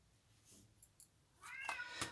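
A kitten mews faintly in a quiet room, a couple of soft high cries, then a louder meow near the end.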